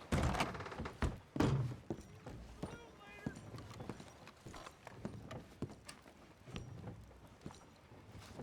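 Horse hooves clip-clop in the Red Dead Redemption 2 video game, a series of uneven thuds and knocks over about eight seconds with wind in the background and speech around them.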